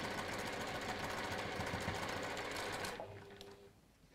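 A sewing machine stitches fabric pieces together into pairs, its fast steady whirring loud and close for about three seconds before cutting off into quiet.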